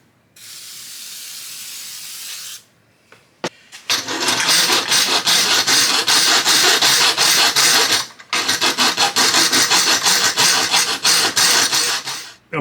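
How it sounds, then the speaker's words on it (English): A tool cuts into a 1964 Alumcraft aluminum boat: a brief hiss, then long, loud, harsh grinding passes up close, broken by a short pause. "So I just need to make a 6-inch cut this direction on both sides"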